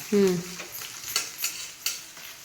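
Green chillies roast in a pan while a spoon stirs them, with a brisk sizzle and a few distinct scraping strokes after a brief low tone at the start. No voices are heard.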